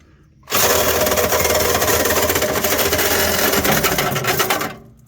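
Loud, continuous metal cutting through a Kia Sedona exhaust crossover pipe, a harsh buzzing saw or cutoff tool running steadily for about four seconds, with a short quiet moment before and after.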